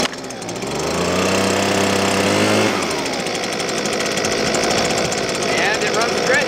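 A Husqvarna 125B gas leaf blower engine runs loud and close with a steady buzzing drone, its pitch shifting partway through and then settling into a harsh, rattling roar.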